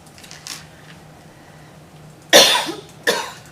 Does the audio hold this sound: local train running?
no